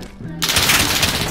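Automatic gunfire in Call of Duty Modern Warfare bursts in after a quiet start, a loud, dense rattle of shots that runs steadily to the end with a voice faintly underneath.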